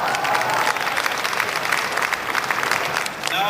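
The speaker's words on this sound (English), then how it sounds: "please give Jason and Kenney a well-deserved round of applause" A crowd at a Chinese New Year celebration in Toronto gives Jason Kenney a full, dense round of applause, loud and sustained with some voices mixed in, easing slightly just before the end.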